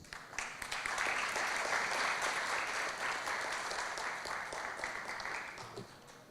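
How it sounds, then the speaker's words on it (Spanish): An audience claps steadily in a broad, sustained wash to welcome a speaker at a business law congress, fading slightly toward the end with no talking over it. "por favor, con un fuerte aplauso."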